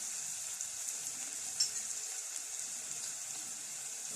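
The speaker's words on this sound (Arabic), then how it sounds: "البسله اللي احنا كنا مفرزينها سوا يتشوح بس شويه" Peas and mixed vegetables sizzle steadily in a pan while being sautéed for a chicken dish, a constant close hiss with one brief clink partway through and no talking.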